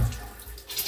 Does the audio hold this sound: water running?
yes